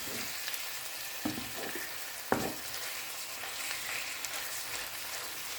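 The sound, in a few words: minced pork being stirred and fried in a pan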